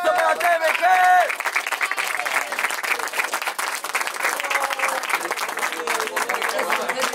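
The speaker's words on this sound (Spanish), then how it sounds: "¡Un aplauso para TMG!" A crowd applauds steadily with dense clapping and some cheering, while a voice calls out briefly at the start.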